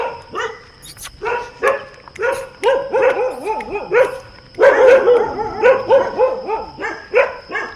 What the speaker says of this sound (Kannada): ಅವ್ರು ತುಂಬ ಬಗಳಕತ್ತವ್ರ ಪಾಡಿಗೆ.